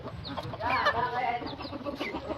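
A white jungle fowl (labuyo) gives soft, quick clucks and short chirpy calls, close by and fairly quiet, with faint background noise.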